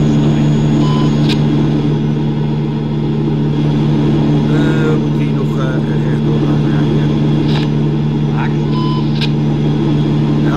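A steady car engine in Euro Truck Simulator 2 drones loudly as it pulls away and accelerates, with a constant low hum and a few faint beeps on top.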